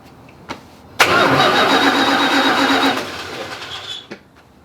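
A classic Mopar engine is cranked over by its starter after fuel system work, a loud, steady whirring crank of about two seconds between a few clicks and knocks.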